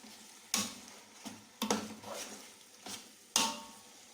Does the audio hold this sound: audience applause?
no